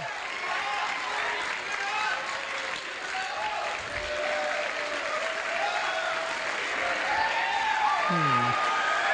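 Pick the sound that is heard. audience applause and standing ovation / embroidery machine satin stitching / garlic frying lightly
audience applause and standing ovation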